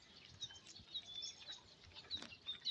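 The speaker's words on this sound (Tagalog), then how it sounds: "Ang dami ibon guys." Several birds chirping outdoors, scattered high tweets overlapping at a moderate distance, with no talking.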